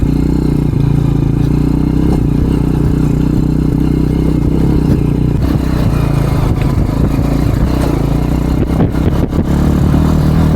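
A motorcycle rides over a rocky mountain track in Crimea, its engine droning steadily and loud while the chassis and suspension rattle and clatter over the stones.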